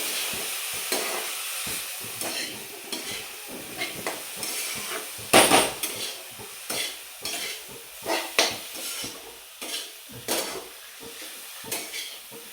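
Dried fish chutney is sautéed in a pan, a soft hiss of frying under rhythmic scraping and clanking of a spatula stirring every second or so, close and clear.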